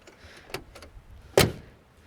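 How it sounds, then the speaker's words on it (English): Door of a 1963 Ford Galaxie 500 shutting, one solid, sharp thud near the end, preceded by a few lighter clicks from the door and handle, close and with no talk. "Solid closing doors."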